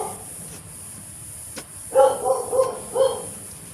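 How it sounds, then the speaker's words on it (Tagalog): A farm dog barks a few times in quick uneven bursts toward the end, fairly near, over a steady outdoor background hum. "Ayaw tumigil ng aso"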